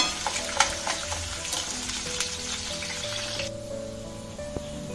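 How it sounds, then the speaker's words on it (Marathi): Onion sautés in a pan with a bright, crackling sizzle and scattered spoon scrapes, the frying noise dropping away sharply near the end. "आता आपण कांदा परतून घेऊया"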